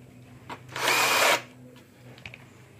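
A power drill countersinks a hole for a flush bolt screw on a door, one short whirring burst of about half a second, close by, with faint clicks before and after.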